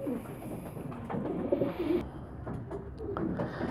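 Pigeons coo in a low, repeated murmur while being packed into a cardboard shipping box, their calls close and moderately loud over faint handling rustles.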